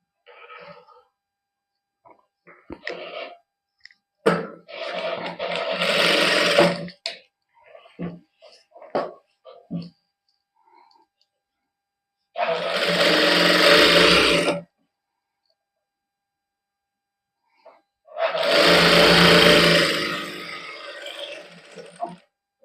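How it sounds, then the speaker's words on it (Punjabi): A sewing machine stitches a hem on a printed cotton suit in three loud bursts of several seconds each, close to the microphone, separated by quiet gaps with fabric handling clicks and brief talk. "ਹੁਣ ਆਪਾਂ ਇਸ ਤਰ੍ਹਾਂ ਕੱਚੀ ਸਲਾਈ ਲਾ ਲਈਏ ਹੇਠਾਂ ਪੱਟਾ ਮੋੜ ਕੇ"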